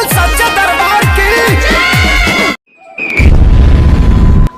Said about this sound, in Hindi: अरे धमाका कैसा